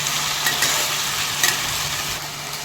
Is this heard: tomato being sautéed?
yes